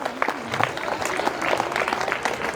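Scattered, moderate clapping from a school audience at a student award presentation, with a faint voice briefly audible amid the hand claps.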